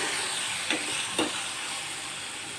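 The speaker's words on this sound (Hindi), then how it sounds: "कटे हुए टमाटर डाल रही हूँ।" Chopped tomatoes hit hot oil in a pan of chana greens with green chilies and fry with a loud, steady sizzle and hiss, with a couple of brief stirring scrapes, close up and with no talking.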